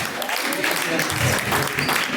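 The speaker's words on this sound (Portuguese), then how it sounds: "Palmas, louva." Congregation clapping during an evangelical church service, a dense, continuous wash of applause with voices mixed in, loud and close throughout.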